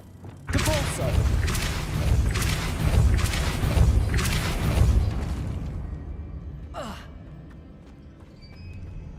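A Depulso spell from Hogwarts Legacy hits with a series of heavy thumping blasts, loud and close, before fading to a quieter tail with one short later burst.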